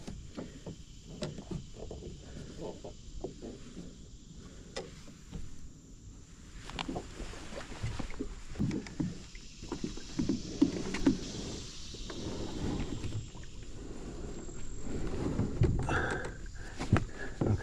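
A kayak is pulled across water toward a log, making faint, scattered splashes, bumps and scrapes that build slightly toward the end. The setting is quiet, with no clear talk.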